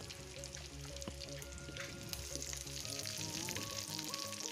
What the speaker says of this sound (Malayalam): എണ്ണ നന്നായി ചൂടായതിന് ശേഷം നമ്മൾ അതിലേക്ക് മുറിച്ച് വെച്ചിരിക്കുന്ന സവാള ഇട്ട്